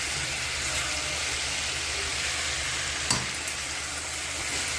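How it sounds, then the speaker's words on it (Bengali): Fried potatoes being stirred into a mushroom curry in a hot pan: a continuous close sizzle with soft scraping from the stirring and one brief sharper clink partway through. "এখন ভালো করে কষিয়ে নেব আর কিছু সময়।"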